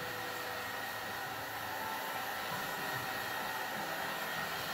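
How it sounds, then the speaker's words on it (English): Heat gun blowing hot air to shrink window film on the rear glass of a 2017 VW Beetle, a steady, loud, close broadband whoosh that holds evenly throughout with no talk. "I'm pretty much just using the hot air, just the heat gun."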